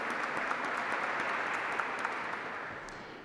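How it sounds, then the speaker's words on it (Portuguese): Steady applause from an audience at a parliamentary front meeting in Brazil, a continuous even wash of clapping for a few seconds, moderately distant and fading slightly toward the end. "uma salva de palmas"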